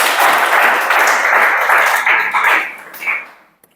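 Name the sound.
audience clapping on request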